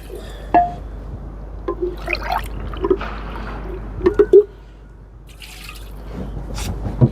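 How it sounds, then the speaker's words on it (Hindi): Two glasses of water go into a cooking pot of mutton kunna, heard up close as scattered splashes and drips, with a brief burst of sloshing partway through and quieter trickles near the end. No one speaks. "इसके साथ हम डालेंगे जी 2 गिलास पानी ऐड करेंगे हम।"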